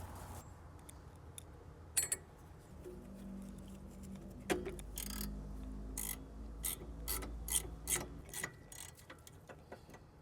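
A ratchet works loose a tight 14mm caliper bolt during a rear brake pad and rotor job on a Lexus ES300, giving clicking, ratcheting mechanical bursts close by with some clanks of tools, and no talking.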